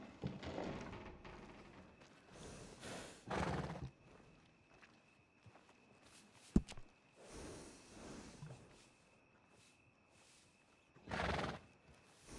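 Horses in the video game Red Dead Redemption 2 whinny and snort in bursts, with hoof clip-clops and a sharp thud in between, fairly faint overall.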